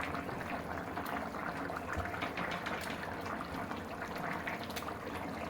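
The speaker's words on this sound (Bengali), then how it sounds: "দেখুন কত সুন্দর বলক উঠতেছে" Curry with pomfret fish, cauliflower and potato simmers in a wok, giving a steady, soft bubbling and gurgling that stays faint and continuous with no talking.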